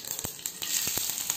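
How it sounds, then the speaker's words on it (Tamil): Mustard seeds, urad dal and chopped garlic fry in hot oil, a short burst of hissing sizzle punctuated by sharp popping crackles, close and moderately loud. "எண்ணெய் சூடானதும் கொஞ்சமாக கடுகு, கொஞ்சமாக உளுந்தம்பருப்பு, ஒரு 4 பல் பூண்டு சின்ன சின்னதாக கட் பண்ணி சேர்த்துக்கோங்க."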